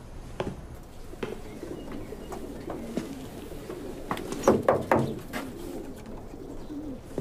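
Pigeons kept as a hobby coo in a loft, several soft low coos clustering near the middle amid faint rustling and scattered taps, with no talk.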